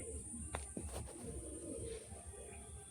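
Pigeons kept for sale coo in low, throaty rolls close by, with a steady high whine in the background.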